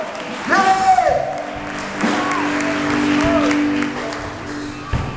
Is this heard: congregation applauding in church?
yes